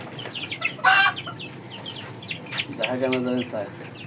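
Chickens raised on a home rooftop cluck in short bursts, with one louder squawk near the start and a run of harmonic calls later, fairly close over faint background noise.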